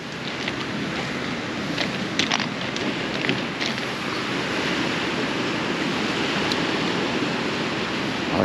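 Sea waves wash steadily over a pebble beach, a loud, continuous rushing surf with rattling stones and occasional brighter splashes, close by and without any talk.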